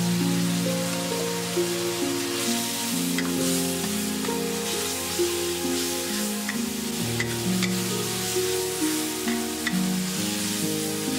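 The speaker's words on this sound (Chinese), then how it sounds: "炒匀后加入一勺豆瓣酱翻炒" Stir-frying with a spoonful of doubanjiang chili bean paste in a wok, a loud steady sizzle with scraping stirs throughout, no talk.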